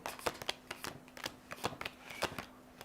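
Tarot cards being shuffled close by, a rapid series of papery riffles and snaps in uneven bursts, soft and nearby.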